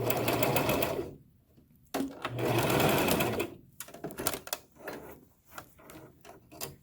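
A sewing machine runs in two bursts stitching fabric pieces for a face mask, followed by lighter intermittent stitching, clicks and handling sounds, close and loud.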